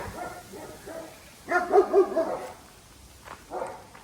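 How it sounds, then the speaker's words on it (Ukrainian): Several dogs bark in short bursts, a cluster of sharp barks in the middle, a bit distant. "О, зараз почали гавкати."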